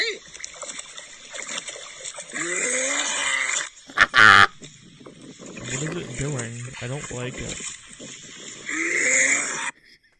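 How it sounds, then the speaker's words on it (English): A dog gags and retches repeatedly beside a lake, the harsh throaty heaves coming in bursts, played back through a phone clip while people talk over it. "It's called Dog Gagging in Lake."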